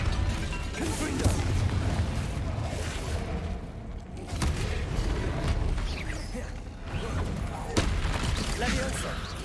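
Confringo blasting spells cast in the Hogwarts Legacy game, heard as loud crackling, fiery bursts that recur over a dense, continuous layer of combat noise, with a few sharper impacts standing out.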